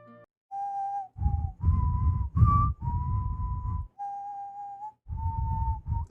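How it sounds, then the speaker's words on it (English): Whistling tied to the Puss in Boots sequel film plays as a melodic tune of several held notes with short pauses between them, clear and prominent and without speech. "Bro, that whistle is downright iconic at this point."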